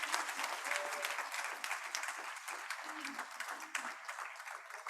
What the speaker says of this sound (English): Let's give a bigger applause than that.